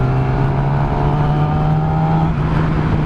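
A Yamaha R6 sport motorcycle engine over-revving in first gear after a bump, a loud, close, sustained high-pitched drone that stays steady for the full stretch with a slight pitch shift near the end.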